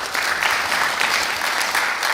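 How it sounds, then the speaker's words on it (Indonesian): Audience applause at an Indonesian parliamentary hearing, a short burst of many people clapping together, close and fairly loud, steady across the whole moment. "Tepuk tangan dong."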